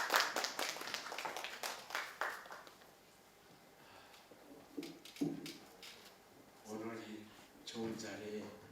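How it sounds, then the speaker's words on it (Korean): Audience clapping at a community media forum, a brief burst of claps at the start that fades within a few seconds, followed by quiet room noise and a voice speaking. "박수로 맞아주시길 부탁드립니다."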